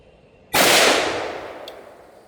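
A single handgun shot cracks out loud and close at an outdoor firearms training session, its sharp blast trailing off in a long echoing decay.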